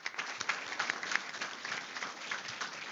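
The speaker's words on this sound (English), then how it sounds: "if you'll please stand for a round of applause as well." Audience at a Fort Bend ISD school board meeting applauds, a faint, steady wash of many hands clapping heard from a distance, with no voices.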